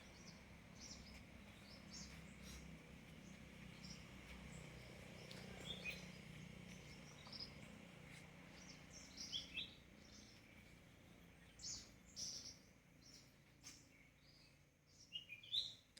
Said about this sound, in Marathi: पक्ष्यांची किलबिलाट वगैरे आपल्याला इथे जाणवते